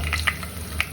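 Raisins sizzle in hot oil already used for frying onions and cashews while making Thalassery dum biryani. The frying is soft and short, with a faint steady hiss and a few light pops and crackles.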